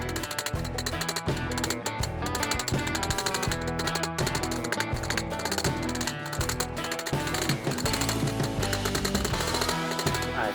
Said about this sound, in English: we can start nailing these bad boys together.